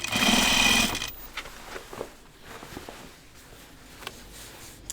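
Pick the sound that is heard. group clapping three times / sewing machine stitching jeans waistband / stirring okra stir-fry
sewing machine stitching jeans waistband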